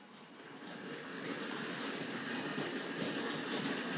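Hornby R.550 9F heavy freight model locomotive hauling R.214 ore wagons and a brake van along the track, a soft continuous whirring rumble that builds slightly, close and fairly quiet with no talk.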